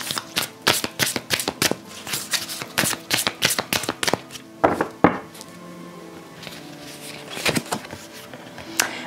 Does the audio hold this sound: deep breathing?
no